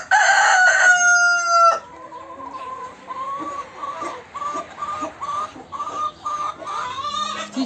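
A farm rooster crows once loudly and close, then a run of short clucking calls follows in an irregular pattern on a sunny thawing day.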